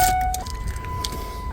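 Turning on the ignition of a 1999–2001 Ford F350 brings a sustained electronic chime tone that steps slightly higher in pitch and holds steady, with faint clicks and a low background rumble.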